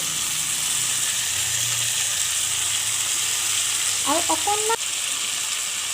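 Chopped tomatoes sizzle in a pan with turmeric and cumin powder for Assamese sour fish tenga, a steady loud frying hiss throughout with a few brief chirpy sounds near the end.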